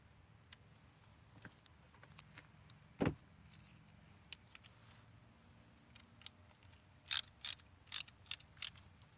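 A ratchet turns 10mm coil pack bolts on a 2008 Nissan Versa, with a sharp clunk early on and then short bursts of quick clicking that grow denser near the end, close by and with no talk.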